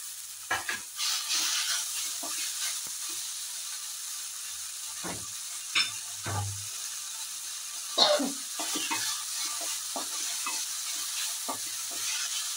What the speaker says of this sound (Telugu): అదే బండిలో మెంతికూర కూడా కట్ చేసి పెట్టుకుంటే తొందరగా వేగుతుందండి, ఫ్రై అవుతుంది.